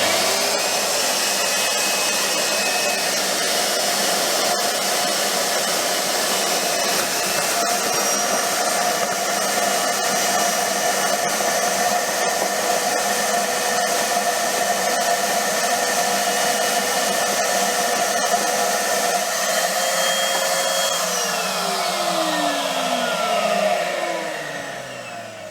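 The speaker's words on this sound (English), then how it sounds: "So let's get hoovering." A loud, steady vacuum cleaner drones continuously with a high whine while cleaning a sailboat's bilge, running nonstop for the whole stretch before dipping slightly at the end.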